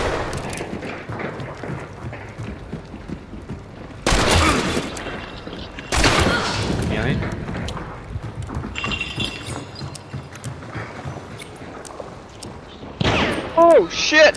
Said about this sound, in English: Immediately start shooting at that.